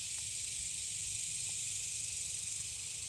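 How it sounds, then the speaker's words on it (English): Cicadas calling in a mating chorus, a steady, loud high-pitched hiss that fills the air without a break, with no talking. "That is cicadas making those noises. That's their mating call."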